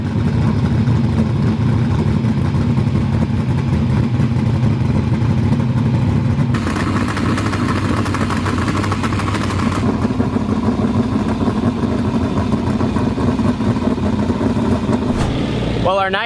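Loud race car engines at Skagit Speedway idle and rumble continuously while warming up, with a rough, throaty drone and occasional revs, close by and filling the whole stretch.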